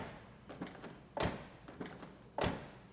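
Door of a 2003 Mercedes SL500 Roadster convertible shutting, two solid low thuds a little over a second apart, each preceded by faint latch and handle clicks, close and moderately loud.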